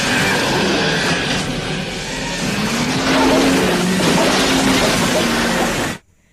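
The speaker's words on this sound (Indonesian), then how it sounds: "mereka kabur dari tempat itu dengan menggunakan motor salju" Snowmobile engine in an action film chase, a loud continuous droning roar that rises partway through, with faint voices mixed in, before cutting off abruptly.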